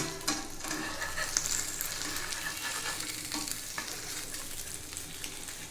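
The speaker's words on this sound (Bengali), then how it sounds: "এবার এই পাশটাও আমি তিরিশ সেকেন্ড সময় ভেজে নিব" A farm egg fries in a pan while being flipped, producing a continuous soft sizzle with light scraping and stirring clicks, fairly quiet and heard on its own.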